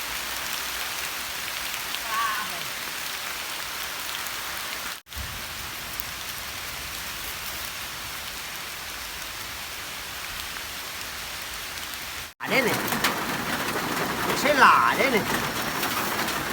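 Steady rain pattering on a surface, a continuous broadband hiss that thickens near the end, with faint voices in the background.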